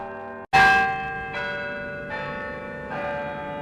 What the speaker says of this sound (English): The historic bells of Albany City Hall return us to Albany Street